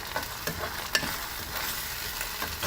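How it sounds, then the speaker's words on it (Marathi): Chopped onions frying in oil with salt are stirred in a pan for masoor usal, a constant close sizzle broken by soft scraping strokes and one brief metallic tap. "ह्याला छान असं ढवळून पुन्हा याच्यावर थोडं तेल घालून ठेवायचं."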